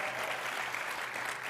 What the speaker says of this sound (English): Yes, we can applaud for that.